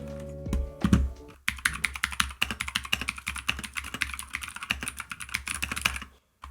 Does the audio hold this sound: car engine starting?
no